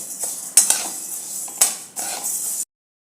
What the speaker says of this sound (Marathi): आणि उडदाची डाळ आणि ह्या तिन्ही डाळी आपण एकत्र भाजून घ्यायच्या आहेत